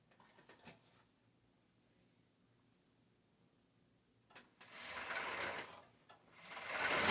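A sewing machine stitches the 5/8-inch crotch seam of rave shorts, starting with a brief run of stitching, then falling quiet, then driving in two loud, close, sustained bursts toward the end.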